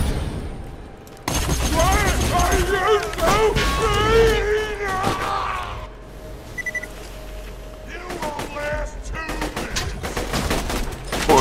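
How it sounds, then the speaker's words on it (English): Rapid automatic gunfire from a deployed turret in Borderlands 2, a dense, loud burst of shots mixed with game effects, then a pause and another clattering volley, with a player talking over it. "I just let my turret do a lot of work for me here."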